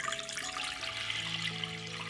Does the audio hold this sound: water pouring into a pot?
yes